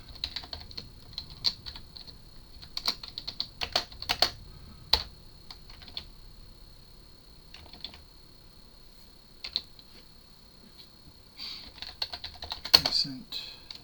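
Typing on a computer keyboard while solving a coding challenge: close, irregular bursts of light key clicks with short pauses, a faint steady high whine behind, and no talk.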